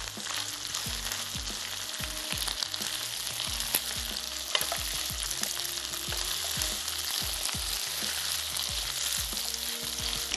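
Beef stir fry with green onion is stirred through its sauce in a pan, giving a steady close sizzle with a string of repeated spatula scrapes and clacks.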